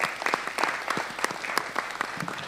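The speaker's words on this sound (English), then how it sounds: "Please give them a round of applause." An audience applauds at a mayoral primary forum, a steady patter of many hands clapping throughout at moderate distance.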